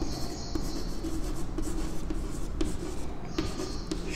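Pen or marker writing by hand on a board or tablet during a maths lesson on sets, a steady faint scratching and rubbing with short strokes throughout, no talking.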